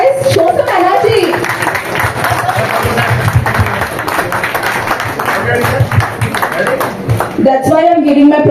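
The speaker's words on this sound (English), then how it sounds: "Round of applause, guys. Show some energy." Loud, sustained applause from a crowd, dense clapping filling the room, with a voice breaking in near the end.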